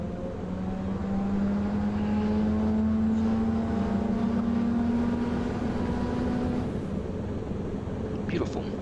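A C-47's piston engine starting up in Microsoft Flight Simulator: a loud, steady drone that climbs gently in pitch as it settles into a continuous run, then drops away near the end.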